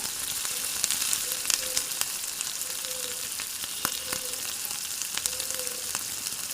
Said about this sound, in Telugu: కొద్దిగా పసుపు అల్లం వెల్లిపాయ ముద్ద వేసి మంచిగా కలుపుకుంటూ వేగనివ్వాలి